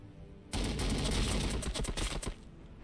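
Plasma weapons firing in the strategy game Warhammer 40,000: Battlesector, a loud rapid burst of crackling, overlapping shots that lasts nearly two seconds, then breaks into separate sharp reports and stops.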